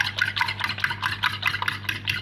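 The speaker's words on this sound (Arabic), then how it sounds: "وبالشوكه بتاعتنا بقى، وهنبتدي نضرب البيض كله كده مع بعضه" Eggs being beaten with a fork in a bowl, a fast continuous rhythmic scraping and clicking close by, steady throughout with a faint low hum underneath.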